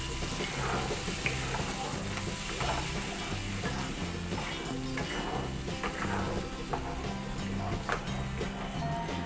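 Spice paste for Bengali tel koi is stirred in a hot pan, sizzling steadily with a constant frying hiss and repeated scraping strokes of the spatula throughout.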